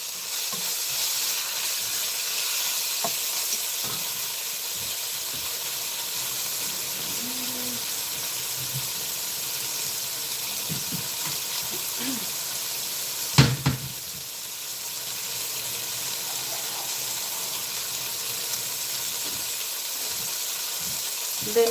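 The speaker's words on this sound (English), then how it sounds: "you just want to sear it in here just like" Meat sears in a hot pot with a steady, moderately loud sizzle, broken by a few soft clinks and stirring sounds and one sharp knock midway.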